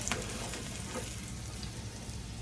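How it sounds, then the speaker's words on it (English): Onions toast in a hot skillet with a steady, close sizzle and frying hiss throughout, with no talking. "let me finish toasting up these onions"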